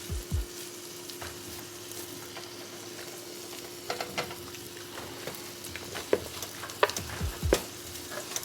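Keto Salisbury steak patties fry in a pan with a steady, quiet sizzle, broken by a few sharp clicks and scrapes as they are turned; no one speaks.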